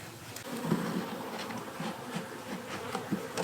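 Honey bees buzz steadily throughout a beehive inspection, a continuous close insect hum with small swells, no talking.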